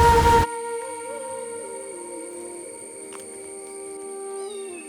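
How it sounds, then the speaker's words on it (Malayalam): A lone kitten in the Achankovil rain forest gives one long, drawn-out, wavering meow. It follows a brief loud burst of noise at the start and sounds close and clear against a quiet background. "അയ്യോ, ഒരു പൂച്ചക്കുഞ്ഞ് ഒറ്റയ്ക്കായോ?"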